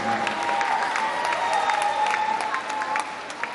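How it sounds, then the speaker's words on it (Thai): A concert audience claps steadily, a dense wash of applause with scattered cheers, loud and continuous throughout. "ขอเสียงปรบมือให้กับ"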